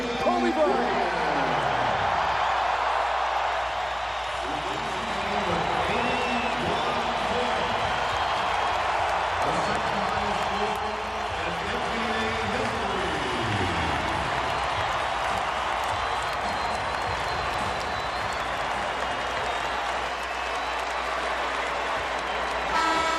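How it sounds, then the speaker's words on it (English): A basketball arena crowd roars and cheers for Kobe Bryant at a Lakers home game against the Raptors, a sustained, dense wall of noise with an air horn sounding through it. "listen to this crowd for number 8, Kobe Bryant"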